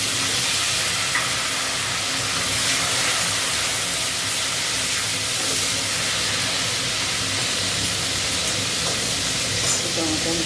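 Tomato goes into a pan of hot oil with cumin seeds, garam masala and bay leaf, setting off a loud, steady sizzle and hiss with light stirring that lasts throughout.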